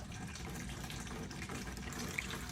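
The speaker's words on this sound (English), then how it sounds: "figured I'd show y'all as I'm pouring this into my container" ECVT PB11 transmission fluid from a 2025 Toyota Camry at 22,500 miles pours steadily into a container, a continuous close-up liquid trickle with no breaks.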